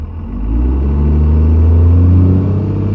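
Dodge engine with an automatic transmission revving as boost builds quickly, a loud, close, steady rising drone that swells over a couple of seconds, with no talking.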